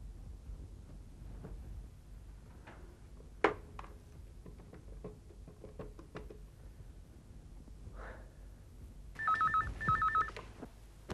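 A telephone rings near the end, two short electronic trills after quiet background rustling and a single knock.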